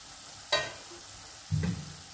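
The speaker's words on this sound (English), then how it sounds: "It has been frying for 5 minutes now." Tomato masala for Bengali fish curry sizzles in a kadai. Two short bursts of frying and stirring rise out of a quiet, faint background.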